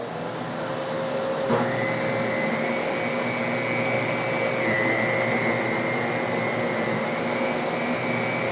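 Bosch vacuum cleaner fitted with a power nozzle runs steadily throughout, a loud continuous motor whine with a tonal hum that steps up in pitch early on and holds, close and alone.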